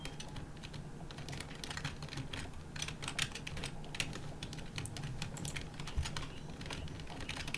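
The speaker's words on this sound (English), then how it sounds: "you can just hear my keyboard just go" Rapid, steady clicking of computer keys, typing continuously at a moderate pace, close by and fairly quiet.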